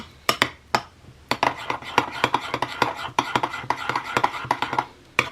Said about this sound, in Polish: Wszystko razem mieszam.